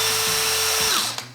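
A handheld drill/driver with two gear settings whirs loudly and close at high speed, then winds down as the trigger is released.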